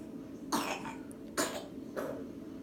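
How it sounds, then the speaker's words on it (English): A baby coughs three times in short, separated bursts with steady room noise between, congested-sounding coughs fairly close and loud against a quiet background, no talking. "Easy cough. That nighttime congestion gets her."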